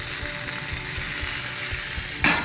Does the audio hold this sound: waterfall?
no